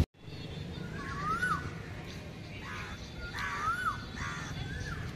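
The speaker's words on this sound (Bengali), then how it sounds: "এই যে পাখির ডাকগুলো খুব সুন্দর পাওয়া যায়" Crows cawing outdoors in a hilly setting, several harsh calls spaced a second or two apart, moderately distant, over a steady low background hum.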